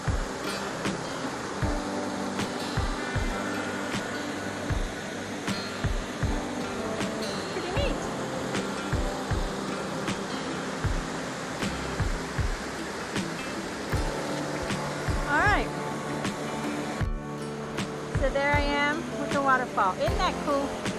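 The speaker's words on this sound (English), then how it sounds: "this really neat waterfall. Into this wee little tiny bit of water." Steady rushing and splashing of a small waterfall into a tiny pool runs throughout, close by, with occasional soft knocks and a person talking now and then.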